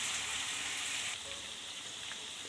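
Spicy chicken kebabs fry in a pan over a slow flame, giving a steady close hiss that eases slightly partway through, with no voices.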